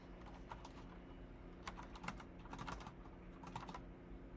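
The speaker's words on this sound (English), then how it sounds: "Also, no one make fun of my typing speed." Steady clicking of keys on a new computer keyboard, quiet and close, in irregular bursts over a low hum, with no voice.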